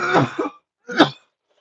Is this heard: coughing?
yes